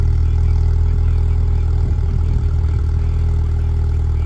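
A turbocharged four-cylinder Volkswagen Golf R Mk6 with an APR tune idles after a cold start, giving a loud, deep, steady rumble with a faint clatter and no change in pace.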